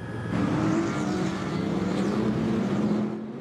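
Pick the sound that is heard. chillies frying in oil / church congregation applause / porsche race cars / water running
porsche race cars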